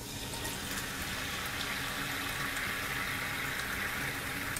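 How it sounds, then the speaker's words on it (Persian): Meat broth being strained through a sieve, a continuous splashing pour of liquid close by, steady and unbroken with no talk. "آب گوشت رو صاف میکنیم."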